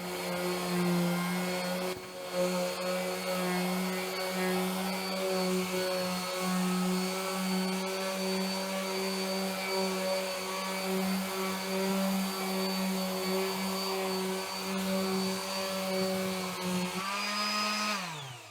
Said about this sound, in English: The sander has plenty of power.